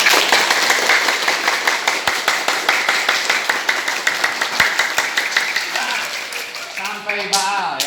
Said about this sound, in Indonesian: tangan ke atas, tangan ke tengah, kemudian tepukan sekencang-kencangnya biar tidak ngantuk